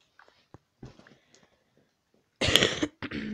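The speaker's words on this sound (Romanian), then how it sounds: "Scuzați-mă că am tușit" A person's throat clearing and coughing indoors in a dark space, starting with faint scattered sounds and then a loud, close burst of harsh coughs in two quick bursts.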